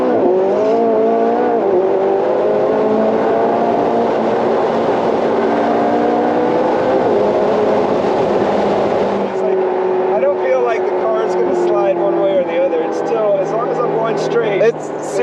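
McLaren 675LT twin-turbo V8 pulls hard through the revs in cool weather, a loud continuous drone of rising engine harmonics with a shift near the middle, while people talk over it inside the cabin.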